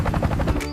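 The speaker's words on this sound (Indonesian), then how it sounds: "ternyata ada sebuah helikopter" Toy helicopter sound effect, a loud steady rotor whir with rhythmic pulsing chops through the clip, close and continuous, with no talking.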